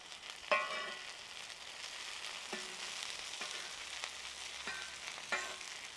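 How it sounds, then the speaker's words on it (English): Onions sizzle steadily on the cooler side of a Weber kettle charcoal grill, a constant close frying hiss punctuated by a few sharp clicks and pops, with no talking. "as you can see, I'm getting a nice color on the onions"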